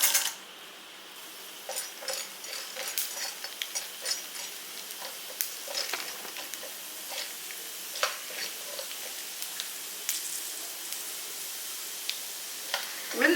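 Urad dal sizzles and crackles in hot oil, with scattered pops and light stirring taps over a steady frying hiss; no talking.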